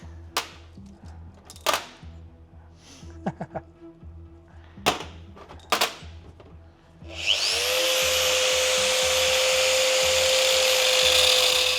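A tapered bearing from a BMW E60 M5 limited-slip differential being cut apart: a few sharp knocks first, then a steady loud high-pitched grinding cut that runs on continuously, close up with no talk.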